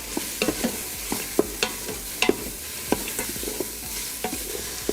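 Vegetables seasoned with salt and pepper sauté in an Instant Pot under a soft continuous sizzle, broken by frequent irregular clicks and scrapes of a utensil stirring against the metal insert, close up with no talking.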